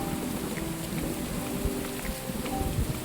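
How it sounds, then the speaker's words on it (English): Steady rain falls beside a fishing stream, a dense continuous hiss of drops with a few louder patters close by, constant and even throughout with no voices. "Love this rain."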